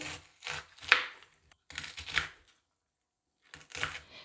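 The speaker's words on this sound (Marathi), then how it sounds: "या पद्धतीने सगळा कोबी आपण असा कट करून घेऊ" A knife chops cabbage in short bursts of crisp cutting strokes, rhythmic clusters separated by brief pauses, close and fairly quiet.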